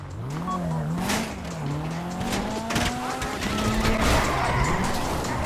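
A car is driven in Grand Theft Auto Online, its engine revving up and down through the gears while tires squeal and skid in sharp bursts, at moderate loudness with no voices.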